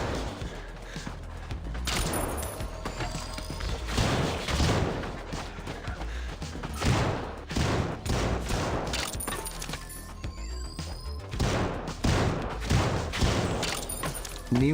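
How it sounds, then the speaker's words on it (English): A Roman candle firework weapon in the VR game In Death Unchained fires in rapid bursts of cracks and thumps, crackling and popping repeatedly over a busy background. "New weapon, Roman candle."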